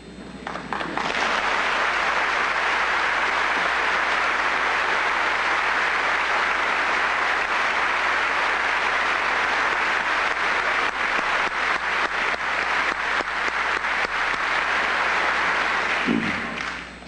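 Sustained loud applause from a large crowd greeting Fidel Castro at the closing session of the Sixth Congress of the Communist Party of Cuba, dense continuous clapping for over fifteen seconds before tapering off at the end.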